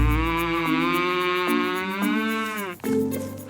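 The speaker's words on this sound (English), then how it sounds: "Happy cows give the best milk." Cows on a farm moo in a long, continuous, drawn-out call that shifts pitch in steps, loud and close, with a brief dip before a final lower bellow.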